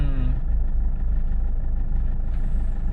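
Road traffic on Dr. Sixto Antonio Avenue in Pasig: a low steady rumble of car and truck engines nearby, with a brief rising engine whine at the start and no talk.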